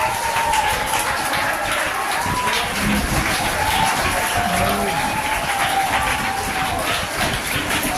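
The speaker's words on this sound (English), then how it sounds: "Let me shoot a round of applause" Students in an audience clap in a steady, unbroken wash at a foundation's honouring ceremony, loud and close throughout with no break, a faint murmur of voices mixed in.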